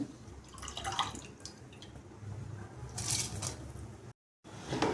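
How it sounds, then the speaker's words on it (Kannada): Water is poured into a pressure cooker while making kuska rice, a soft, close splashing and trickling that runs for several seconds and briefly cuts out near the end. "ಎರಡು ಗ್ಲಾಸ್ ಅಷ್ಟು ನೀರು ಹಾಕ್ಕೊಳ್ರಿ"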